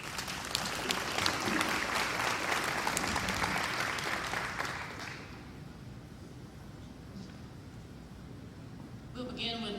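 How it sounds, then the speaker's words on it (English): A debate audience applauds the candidates for Tennessee's 7th Congressional District, a broad steady roar of clapping for about five seconds that then fades to a quieter room murmur. "If you would please give them a round of applause"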